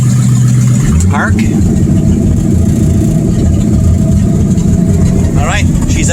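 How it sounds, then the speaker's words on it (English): A 1962 Mercury Comet's engine idles a bit high, a steady, low rumble continuing throughout, with brief bits of speech near the start and end. "Idling a bit high, but idling."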